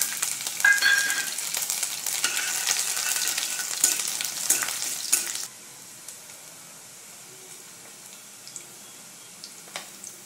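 Mustard seeds, cumin and garlic crackle and sizzle loudly in hot oil for a ridge gourd dry curry, a dense spitting burst that cuts off abruptly and leaves a faint, quiet background with small ticks.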